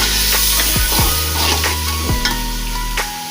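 Garam masala frying with a splash of water in a pan for aloo matar pulao, giving a steady close sizzle with several stirring scrapes and clinks of a spoon against the pan over about three seconds.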